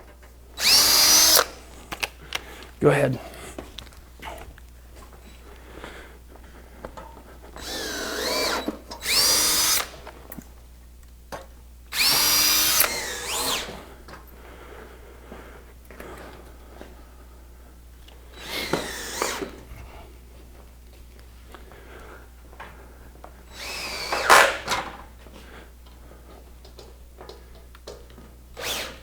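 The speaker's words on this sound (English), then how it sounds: "I'm just drilling a little pilot hole." A power drill bores pilot holes for large screws during a Consew 206 RB5 sewing table build. Several loud, separate bursts of whirring are spaced across a quiet room, with a few brief words spoken.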